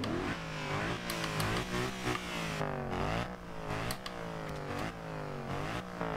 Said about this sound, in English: That's a fairly interesting sounding exhaust.